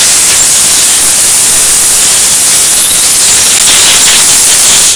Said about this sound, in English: now we're going to get fancy with some compressed air